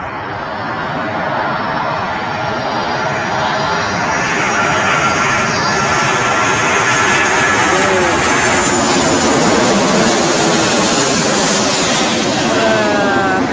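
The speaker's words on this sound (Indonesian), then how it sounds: "Tiba-tiba pesawat datang." Propeller airplane flying very low over a cemetery during a burial, a loud, steady engine drone that swells as it passes close overhead.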